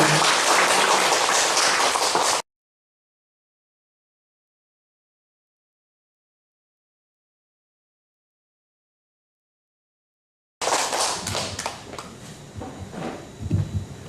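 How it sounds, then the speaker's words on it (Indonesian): An audience at an Easter revival service in Tambolaka, Sumba applauds to welcome the pastor. Loud, dense clapping comes in two bursts with a long silent gap between them. "Mari kita berikan tepuk tangan, kita sambut pendeta kita."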